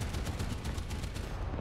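Rapid, evenly spaced gunfire from a Sho't Kal Dalet tank in the video game War Thunder, loud and continuous without pause.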